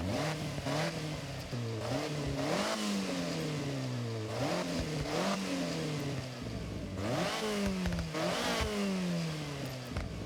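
A 1996 Toyota Starlet's small engine in Forza Horizon 6 revving repeatedly, pitch climbing through gears in rising sweeps, then dropping at each shift, fairly quiet and unbroken over ten seconds.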